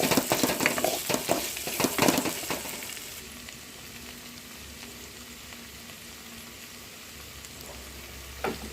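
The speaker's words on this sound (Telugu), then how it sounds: "బెండకాయకి సరిపోయిన ఉప్పు, కాస్త పసుపు వేసి దీన్ని బాగా కలుపుకొని" Okra stirred with salt and turmeric in a hot pan, a loud burst of scraping and sizzle over the first three seconds, then a quieter steady sizzle with a faint clink near the end.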